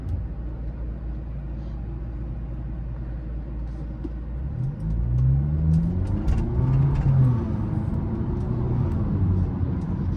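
A BMW F30 saloon drives home from university, heard from inside the cabin as a steady, loud engine and road rumble that rises in pitch as the car accelerates partway through.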